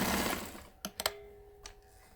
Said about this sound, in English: I'm going to do my backing up, sew it, and then anchor it again on this end